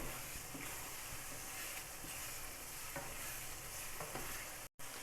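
Chopped green chillies and ginger fry in a pan, giving a steady close sizzle with soft scraping from stirring throughout.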